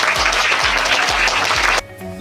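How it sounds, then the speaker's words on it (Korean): A crowd at a diplomatic talk event claps in a dense, fairly loud burst to welcome a speaker, with soft low thumps underneath, then cuts off abruptly into quiet room tone. "이주영 행정관님 큰 박수로 맞이해주세요"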